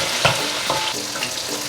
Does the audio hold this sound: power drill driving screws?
no